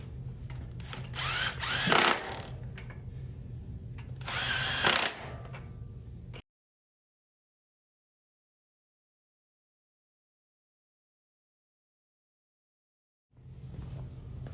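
A torque wrench ratchets down LS engine head bolts, two loud close bursts of rapid clicking over a low hum, then silence before the hum returns.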